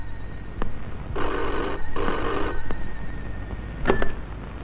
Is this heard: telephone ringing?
yes